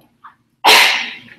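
A single sharp sneeze bursts out close and loud after a small intake of breath, then fades quickly in an otherwise quiet room.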